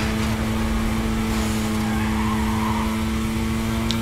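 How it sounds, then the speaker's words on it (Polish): Engine and tire noise of a Mazda racing in Need for Speed: Carbon, a steady droning hum with a constant tonal whine and occasional tire skids, loud and continuous throughout. "normalnie ten dźwięk tej Mazdy to taki... mi osobiście nie pasuje"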